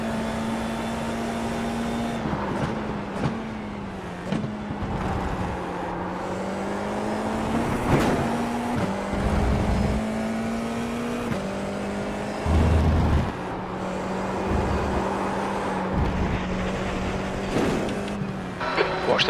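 An FIA F4 race car laps Laguna Seca with a loud, close engine drone from the cockpit, rising and falling through repeated gear shifts and braking, with a few thumps over kerbs.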